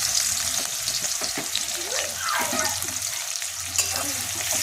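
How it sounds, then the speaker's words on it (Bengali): Chopped onions fry in ghee for a pepper chicken dish, a steady broadband sizzle with occasional stirring scrapes running throughout, close and fairly loud, with background music or a faint voice underneath. "এবারে আমি পেঁয়াজটাকে লাল লাল করে ভেজে নেব।"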